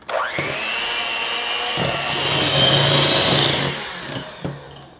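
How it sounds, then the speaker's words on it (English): A hand mixer whirs steadily through softened cream cheese for a cheesecake batter, a loud continuous motor drone lasting several seconds with brief pauses and restarts near the start and end, no talking. "I'm going to just blend this up with the hand mixer"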